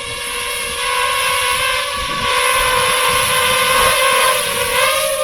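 A DJI FPV drone flies close by and comes in to land, its propellers giving a loud, steady high-pitched whine with layered tones that shift slightly in pitch throughout.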